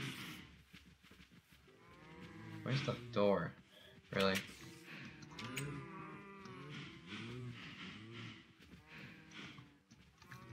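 Cows mooing in Minecraft, a few low drawn-out moos standing out around the middle of the clip over game sounds, with someone talking throughout.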